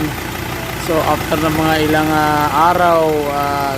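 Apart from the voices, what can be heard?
rebuilt Ford Ranger Wildtrak engine idling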